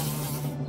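A cartoon fly buzzes close by in a steady, continuous drone, loud and unbroken.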